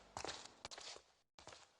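Loud footsteps thud in a quick, even walking rhythm in the video game Stonekeep, close and clear, cutting out briefly before resuming.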